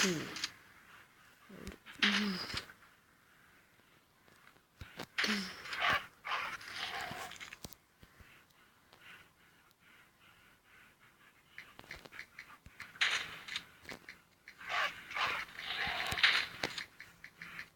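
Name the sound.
dog panting and whimpering in the video game Into the Dead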